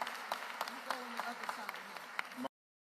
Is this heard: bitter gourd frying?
no